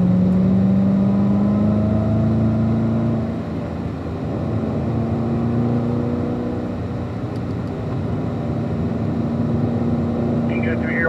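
A race car engine accelerates through corners, with a sustained loud drone whose pitch shifts as the gears change. It is heard from close by and carries no speech.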